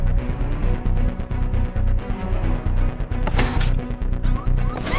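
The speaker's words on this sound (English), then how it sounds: "And he's breaking that glass!" Glass smashing in a video game, a crash with bright shattering debris amid a dense stream of repeated hard impacts and thuds, loud and close.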